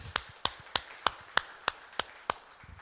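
Eight evenly spaced sharp claps ring out in a steady rhythm during a church service, fairly quiet and slightly distant, with no talking.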